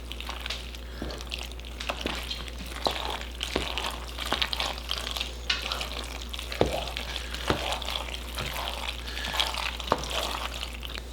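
Smoked bacon mac and cheese on a pellet grill gets stirred in a pan, giving a low continuous sizzle with repeated soft scrapes and taps of the utensil spread across the clip.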